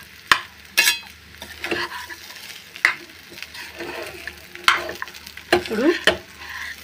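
A sesame-jaggery laddu mixture with cashews and raisins is stirred in a pan, giving repeated scraping strokes and clinks of a spoon against metal over a faint sizzle, loud and close.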